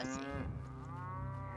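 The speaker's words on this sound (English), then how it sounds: "Stop mooing." A single cow moos once in Neverwinter Nights, a long, deep, drawn-out call heard up close.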